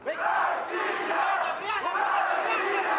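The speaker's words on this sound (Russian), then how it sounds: "также пытаются завести э, публика и болельщики сборной России и своего боксера" Russian team fans at an international boxing match chanting and roaring together, a sustained rhythmic crowd chant filling the arena at moderate distance.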